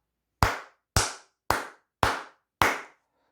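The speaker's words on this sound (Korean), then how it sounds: "이 시점에서 다시 크게 박수 한번 치고 가도록 하겠습니다" Five loud, sharp hand claps spaced evenly about half a second apart, each crisp and close with a short decay, in an otherwise quiet room with no voices.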